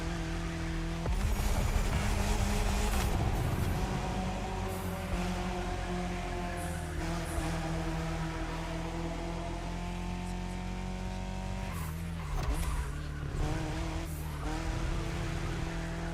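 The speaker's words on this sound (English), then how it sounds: "C63 acceleration isn't that bad after all" Mercedes C63 in The Crew Motorfest, engine roaring through acceleration and gear changes with brief tire squeals in the corners, loud and continuous, faint talk beneath.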